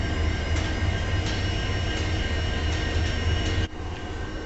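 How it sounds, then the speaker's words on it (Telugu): A goods train rolls steadily past at Karimnagar station, a loud sustained rumble of wagons with periodic clacks and a sharp change near the end, no talk. "చూడండి ఫ్రెండ్స్ ఇప్పుడు గూడ్స్ ట్రైన్ వెళ్ళిపోతుంది."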